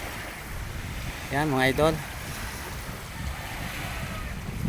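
Sea waves and wind on the seashore at Pola, a steady broadband wash of surf and wind noise, with someone speaking briefly over it.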